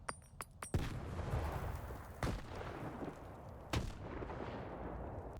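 Grenade blasts in the video game Stalker 2 set off a chain reaction: three heavy, booming explosions spaced over a few seconds, each followed by rumbling debris, preceded by a few sharp clicks.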